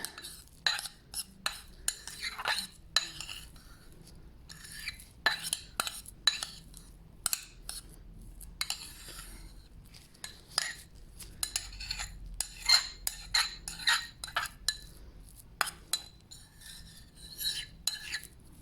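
Lip mask ingredients are mixed with a utensil in a small container, giving repeated light scraping and clinking strokes at close range in an uneven rhythm, with no talking.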